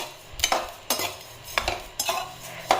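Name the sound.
coriander seeds being dry-roasted and stirred in a pan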